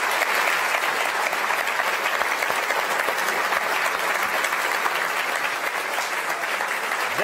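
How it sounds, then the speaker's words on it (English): An audience at a live evening space-mission talk gives the speaker sustained, dense applause, loud and steady throughout with no voices over it. "Can we get a big round of applause for our speaker tonight"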